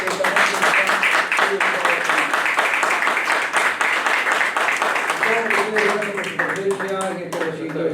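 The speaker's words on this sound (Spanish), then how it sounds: "Fuertes y calurosos aplausos a nuestros expositores." An audience at a development-plan forum applauds the speakers, sustained dense clapping that carries on at full strength and thins slightly near the end, with faint voices underneath.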